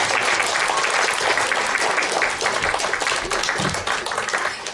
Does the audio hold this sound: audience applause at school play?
yes